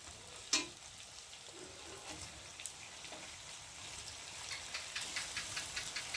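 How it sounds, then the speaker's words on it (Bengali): Pasta is stirred in a frying pan, giving a faint, low sizzle with light scraping taps and a sharp clink near the start, quiet and close throughout. "পাস্তাটা দেওয়ার পর একটু ভালো করে আবার নেড়ে নেব।"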